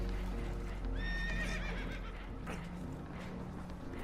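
Spooked horses whinny in Red Dead Redemption 2, a run of high wavering neighs near the start over steady rumbling water and boat noise, with clopping hooves throughout and no talk.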